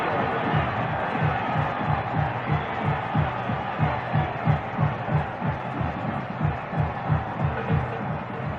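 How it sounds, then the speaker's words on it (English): A large football stadium crowd at the 1954 Grey Cup roars steadily after a Montreal Alouettes touchdown, a dense, swelling rumble of voices with a throbbing pulse running through it and no commentary over it. "Doesn't that crowd roar?"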